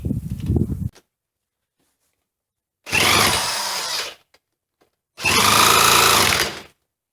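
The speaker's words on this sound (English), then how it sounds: "I'm gonna have to go get a drill." A mini bike's starter motor is cranked by a power drill in three separate whirring bursts, the first short and the next two lasting over a second each, with silence in between.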